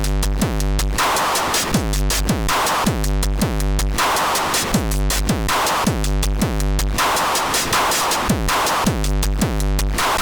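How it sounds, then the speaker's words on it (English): Drum samples from an Endorphin.es Two of Cups sampler module, both channels run through an Endorphin.es Ghost for distortion, pound out a steady looping beat of heavy kicks, snappy hits and gritty noise bursts, loud and alone. "In this example, all sounds you hear are coming from the Two of Cups"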